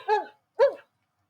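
Two short dog barks from a small robot toy dog, played as a sound effect through its speaker, close and fairly clear with a brief pause between them, with no talk over them.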